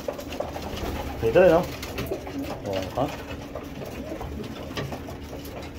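Pet pigeons coo close by in soft rolling bursts, with a clear coo near the middle, while a person talks briefly over them.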